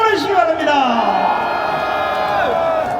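Large crowd at a street rally against a presidential impeachment cheering and shouting together, a loud continuous roar with rising whoops and voices layered over one another for several seconds.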